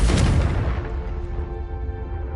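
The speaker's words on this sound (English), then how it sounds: "Have a go at those candelabras" A Confringo fire spell from Hogwarts Legacy strikes candelabras, a loud booming impact at the start that fades into a lingering rumbling tail.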